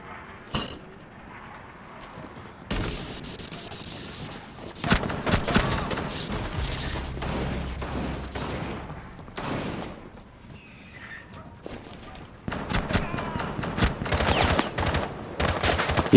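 Bursts of rapid gunfire in Rainbow Six Siege, a tactical shooter, crackle in loud clusters. A long volley is followed by quieter gaps, then another burst of fire near the end.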